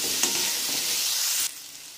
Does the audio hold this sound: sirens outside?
no